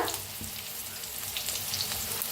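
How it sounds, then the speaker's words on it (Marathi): Chopped onion roasts in a pan with a pinch of asafoetida, making a dense, continuous crackling sizzle heard up close with a few soft stirring knocks. "आता जरा 1 मिनिटभर कांद्याला भाजून घेऊया आपण।"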